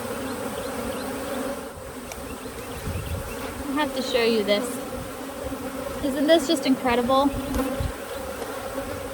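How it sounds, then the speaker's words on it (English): A large mass of honey bees swarms over almost solid brood during a hive inspection, a dense close buzzing drone that swells and fades throughout while a person speaks over it. "The amount of bees."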